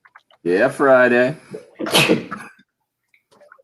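A single loud human sneeze bursts out close up, followed by a brief voiced reaction, with someone speaking just before it, during a live early game broadcast on a Friday.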